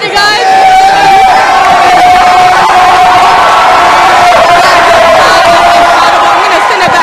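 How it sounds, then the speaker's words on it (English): A student fan section roaring at a high school boys and girls basketball game between West Homestead and Nicolet, a loud sustained crowd cheer with shouted chants and whoops, filling the space. "As you can see, that the crowd is still hype right now."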